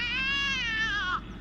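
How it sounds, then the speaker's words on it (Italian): An angry cat from The Sims video game lets out a single drawn-out, strained yowl that bends downward and cuts off, loud and close. "Sento il gatto incazzato che si sta picchiando con qualcosa"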